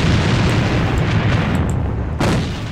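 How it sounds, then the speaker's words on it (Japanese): A grenade in the AVA shooter goes off as one loud, close blast. A heavy rumbling boom fills the whole stretch, and a second sharp crack comes near the end. "手榴弾を使うぞ。"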